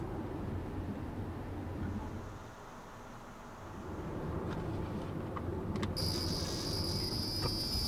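Insects chirp through the night air in a continuous drone, and a shrill, sustained trilling swells up near the end.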